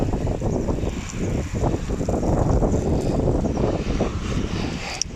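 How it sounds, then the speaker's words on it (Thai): Strong wind blows outdoors in a garden of colocasia plants. It makes a loud, continuous roar that buffets the microphone in uneven gusts, with no voices. "วันนี้ลมแรงมาก"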